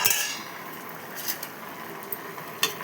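A metal lid lifted off a cooking pot of broad bean seed curry gives a sharp clink at the start and another near the end, over a faint, even kitchen background.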